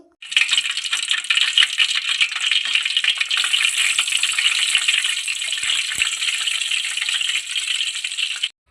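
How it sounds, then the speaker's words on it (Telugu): Cumin seeds sizzling in hot oil in a kadai, a loud, steady crackling hiss that starts abruptly, holds without pause and then cuts off, with no talking. "ఆయిల్ హీట్ అయ్యాక అందులోకి 1 స్పూన్ జీలకర్రని యాడ్ చేసుకోవాలి"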